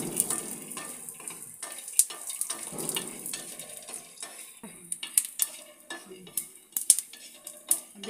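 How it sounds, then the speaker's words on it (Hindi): Peanuts roasting in a little oil while being stirred, quiet frying with rattling, clinking spoon scrapes against the pan coming in irregular bursts, louder toward the end. "सबसे पहले हम सिंगदाना को भून लेंगे अच्छे से।"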